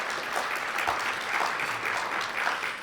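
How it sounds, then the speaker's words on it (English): An audience at a sold-out business legislative summit breakfast applauds, a steady wash of clapping that holds evenly for a few seconds with no talk over it. "So give yourself a round of applause."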